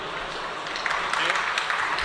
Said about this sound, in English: Welcome and applause again.